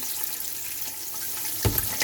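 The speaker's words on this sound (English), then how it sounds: "add some water to the vegetables" Water pours steadily from a kitchen tap into a pan of vegetables while chicken lo mein is cooked, a continuous splashing hiss with a couple of brief clanks near the end.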